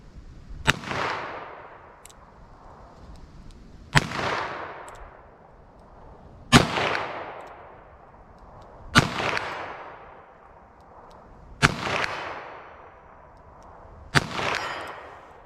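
Six single gunshots from a .22 Magnum handgun crack out at slow, fairly even intervals outdoors, each sharp report trailing off into a short echoing decay, with faint quieter ticks between.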